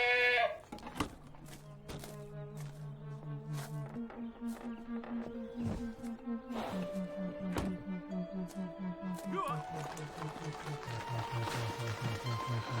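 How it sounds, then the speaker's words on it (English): A goat bleats over and over in a long, wavering series of nasal, strongly pitched cries, close and loud, with brief gaps between calls and no talking. "get a message to Repton to come and fetch his goat"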